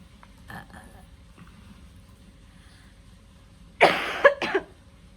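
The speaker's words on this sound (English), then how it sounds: "That was a burp, a yawn, and then a cough, all in one." A short burst of throat noise near the end, a belch-like gulp running into a breathy yawn and a quick cough, after near silence.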